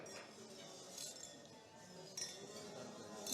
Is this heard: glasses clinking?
yes